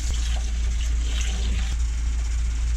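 Hot water pours steadily into a container for cleaning a dirt bike carburetor, a short close splashing rush over a low background hum.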